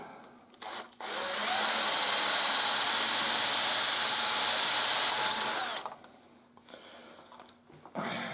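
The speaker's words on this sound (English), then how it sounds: "You just basically drill the top of the head" A power drill whines steadily for several seconds, grinding into a metal screw head up close while drilling it off, then stops, leaving quieter handling noises.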